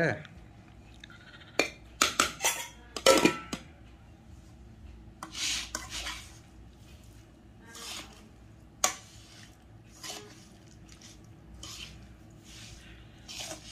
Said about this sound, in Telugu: అన్నం కలిపి మళ్ళీ చూపిస్తా. కలుపుతున్నానండి.